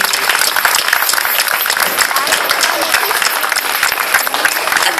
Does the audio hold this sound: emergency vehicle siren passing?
no